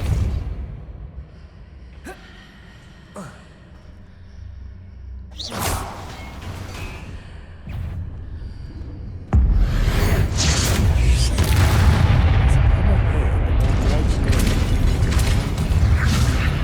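Spell impacts from the video game Hogwarts Legacy: a sharp whooshing burst with a boom around five seconds, then a loud sustained rush of magical blast and effects lasting to the end, with quieter game ambience before.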